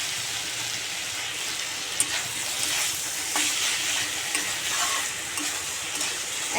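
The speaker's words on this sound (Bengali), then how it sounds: "এদিকে চিচিঙ্গা ভাজাটা আমার হয়ে এসছে।" Snake gourd fries in a pan with a steady, dense sizzle, close and continuous, broken by a few faint clicks of stirring, with no voices.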